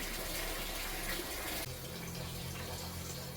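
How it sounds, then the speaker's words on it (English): Water gushing from a pond pump into garden pond filters, a loud, steady rushing flow that shifts abruptly partway through to a lower, fuller churning as the chamber fills. "I will try and switch on the pump and get the system, the filters full of water"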